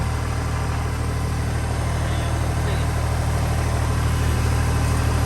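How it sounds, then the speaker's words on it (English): A tractor engine reversing runs with a steady low rumble, loud and close, holding an even idle-like drone throughout with no voices. "we're on the tractor. We're gonna go ahead and just reverse a little bit"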